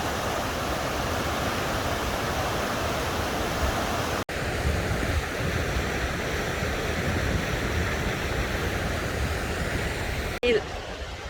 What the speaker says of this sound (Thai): น้ำตกใกล้ๆเนาะ